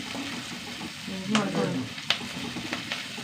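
Ginger, garlic and shallots fry with curry leaves in hot oil, a loud close sizzle with bursts of crackling and a few sharp spits, plus faint clinks of stirring.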